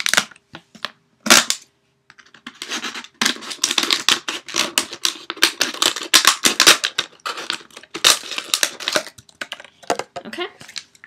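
Scissors snip through a paper template for a Sinon cosplay prop, a run of crisp, close cuts in uneven bursts with short pauses between them.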